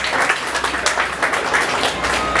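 A crowd at a WordPress business evening event breaks into applause for sponsors, a dense, steady patter of many hands clapping at close range with no break.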